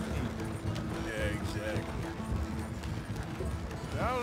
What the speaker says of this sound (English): Slow down, you'll burn out the horses.